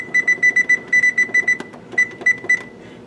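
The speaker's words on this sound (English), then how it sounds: "So we're obviously gonna put our timer on." A digital kitchen timer beeps in a quick series of short, bright electronic tones, pausing briefly between bursts of button presses.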